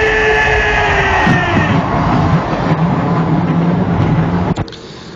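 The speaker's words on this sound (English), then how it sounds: "Gentlemen, start your engine!" Race truck engines start and roar together in a loud, continuous droning rumble with shifting revving tones, heard from nearby at a truck race.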